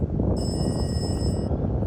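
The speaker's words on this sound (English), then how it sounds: "Saved by the bell." An interval timer bell rings during a bodyweight workout on a beach, giving one sustained, bright ringing tone of about a second over steady wind and surf noise.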